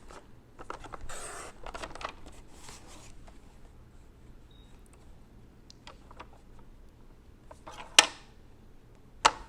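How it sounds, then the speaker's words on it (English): A paper trimmer cuts paper for a fall mini album: faint scraping slides in quick bursts early on, then a couple of sharp clicks near the end, with quiet gaps between. "let's get our trimmer back out. We're going to trim these up a little bit and mat them"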